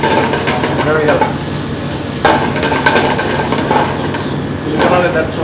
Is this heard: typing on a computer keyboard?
no